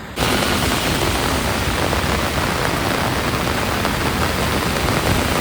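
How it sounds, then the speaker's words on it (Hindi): Very heavy downpour in Haridwar, a steady dense roar of rain that starts abruptly and stays loud and even throughout, with no voices. "ये बारिश कोई मामूली बारिश तो है नहीं।"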